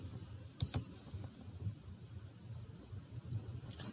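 A couple of sharp computer mouse clicks come close together near the start, then faint scattered clicks over a low steady hum while settings are opened on a Windows 10 PC.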